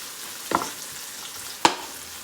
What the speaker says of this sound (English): I'm going to go ahead and give that a little bit of a stir.